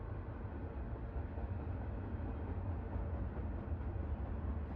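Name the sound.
recorded train noises played back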